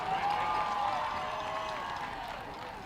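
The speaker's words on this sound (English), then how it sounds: "give these guys a round of applause for 20+ years of service at the concession stand" Applause from a crowd at a high school football senior night, clapping steadily for concession stand volunteers, fairly distant and gradually tapering off.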